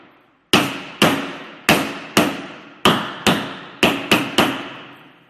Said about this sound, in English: take a wooden piece and a hammer.